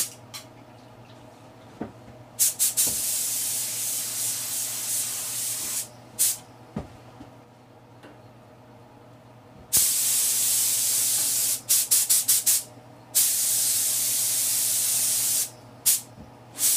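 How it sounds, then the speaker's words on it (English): Base coat paint is sprayed from a spray gun onto a cafe racer motorcycle in loud, close hissing bursts of a few seconds each, separated by short quiet gaps over a faint steady hum. "and then I'll come back and we'll start shooting the base coat."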